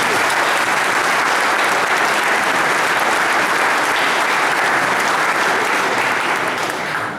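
An audience at a mountain-town inauguration ceremony claps loudly and steadily, a dense continuous wash of applause with no pause.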